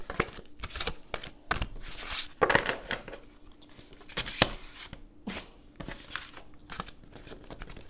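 Tarot cards are shuffled in short, crisp riffles and slaps, irregular bursts spaced a second or so apart, close and fairly quiet.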